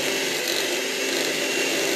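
An electric mixer whirs steadily and continuously while beating a pumpkin cream cheese dessert, a close, even motor drone with no pauses.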